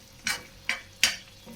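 Spinach and tomato curry stirred in a pan, three quick close scraping strokes of a spoon against the metal over a faint background of gentle cooking.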